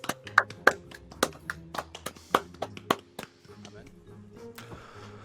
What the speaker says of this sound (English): Big round of applause, everyone. Clap and chat.